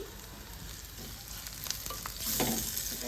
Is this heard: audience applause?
no